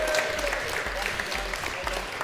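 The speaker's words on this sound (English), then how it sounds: "Big round of applause for 3rd place" A crowd at a Tiny Whoop drone race finals day claps steadily for the third-place team, with a low rhythmic thump running underneath.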